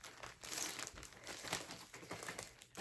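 Glued Riolis advent calendar packaging is cut open by hand, giving close, quiet crinkling and scraping with a few sharper snips over about three seconds.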